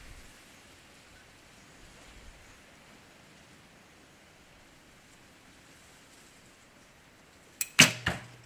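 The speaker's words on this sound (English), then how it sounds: "We'll just shoot one more so you can see the group." A recurve bow shoots a clout arrow outdoors: a single sharp release snap near the end, with a brief whoosh, over quiet wind-like background hiss.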